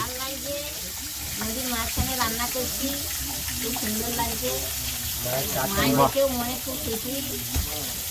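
Fish frying in a pan over an outdoor cooking fire in the Sundarbans, a steady crackling sizzle heard close up beneath lively chatter and voices.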